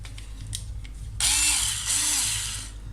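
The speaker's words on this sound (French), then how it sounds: "Donc je vais maintenant visser." A small cordless screwdriver drives a screw while a shower tray is being fitted, with two short whirring bursts that rise and fall in pitch, close and loud after a quiet pause.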